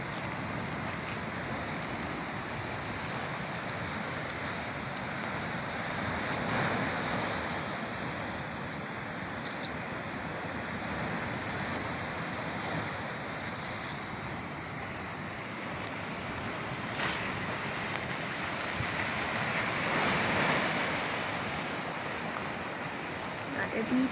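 Ocean waves wash steadily onto a sea glass beach, a continuous broad rush with gentle swells and some wind, heard alone at a moderate distance.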